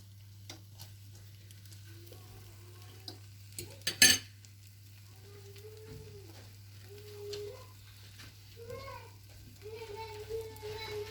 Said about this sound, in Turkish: Bu şekilde yumurtalarımız güzelce pişecek ve ekmeğimize yapışacak.